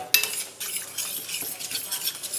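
A spoon scrapes and clinks in a bowl as canned tomatoes are stirred into a Cadiz-style soup, close and moderately loud in short irregular strokes, without talking.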